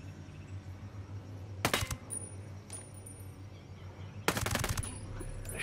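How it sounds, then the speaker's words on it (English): Gunshots aimed at a rocket-carrying enemy in Ghost Recon Breakpoint, two brief rapid bursts of crisp shots over a steady low ambient hum, with a faint lone shot between them. "Shoot the rocket man in the leg so his backpack doesn't explode."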